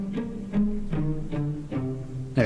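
A cello bows a short phrase quoting a James Bond theme, several swelling notes with distinct attacks in a steady rhythm, moderately soft and alone.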